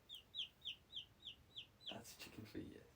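A voice imitates a chicken with a steady run of about eight quick, rhythmic clucks, followed by a louder burst of mixed noise.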